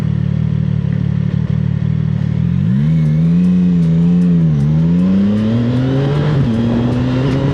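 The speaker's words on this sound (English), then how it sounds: "I just accelerated just to get out of the way of that truck" A CFMoto 675SS sport motorcycle accelerates on a road while the rider pulls away from a truck, its engine note climbing steadily, dipping once at a gear change, then rising again, loud and close under constant wind noise.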